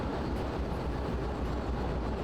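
Heavily loaded freight wagons, some 1200 tons of steel, rolling behind a small shunter locomotive in the video game Derail Valley, a steady low rumbling roar with no distinct clicks, close and continuous, with no talk.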